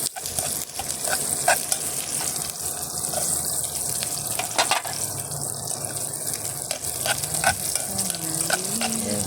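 Garlic and onion sauté in a pot, a continuous crackling sizzle with frequent scraping stirs and occasional splashy bursts, close and fairly loud.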